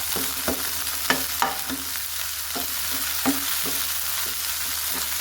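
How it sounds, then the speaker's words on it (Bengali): Coriander leaves frying lightly in a pan, a constant bright sizzle with several soft stirring scrapes and taps of a spoon near the start, quieter toward the end. "ধনে পাতাও আমি হালকা ভেজে নেব একটু"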